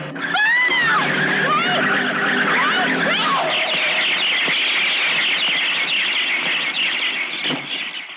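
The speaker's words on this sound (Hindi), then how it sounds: "गाड़ी रोकने के चक्कर में इन्होंने पेड़ पे चढ़ा दी" A car skids while trying to stop and runs into a tree: loud, sustained tyre screeching with sliding pitch, followed by a harsh, noisy rush of sound that fills the rest of the moment, with no voices.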